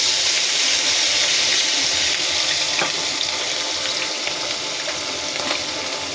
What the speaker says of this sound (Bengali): চিংড়ি মাছগুলো দিয়ে দিচ্ছি।